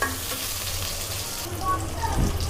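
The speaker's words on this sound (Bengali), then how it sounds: "এখন পেঁয়াজটাকে হালকা বাদামি কালার করা পর্যন্ত একটু ভেজে নিব" Chopped onions fry in a pan on the stove, giving a steady, close sizzle and crackle throughout, with a few light stirring scrapes near the end.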